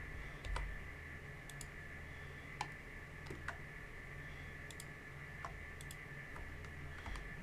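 Sharp, sparse clicks of a computer mouse during 3D modeling work, several close-up taps spread irregularly over a steady background hum.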